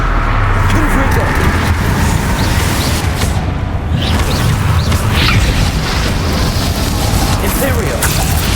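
A Confringo blast spell explodes in the Hogwarts Legacy video game, a loud sustained roaring burst with deep low rumble that holds steady across the whole stretch.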